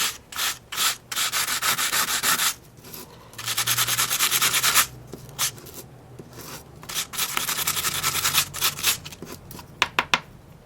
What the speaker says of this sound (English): the next step is to just lightly sand it